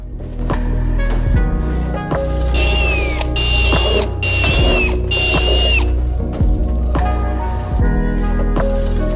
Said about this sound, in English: drill those holes and put some bolts in them